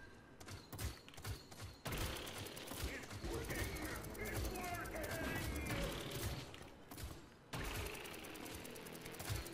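Sustained rapid gunfire from the video game Paladins rattles on in dense, continuous bursts with thumps and mechanical clatter, loud and close, briefly broken by sharp cuts in the mix.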